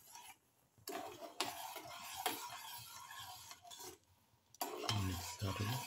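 A spoon stirs sugar into cardamom and star anise tea, clinking and scraping against the cup in bursts with short pauses, close and soft.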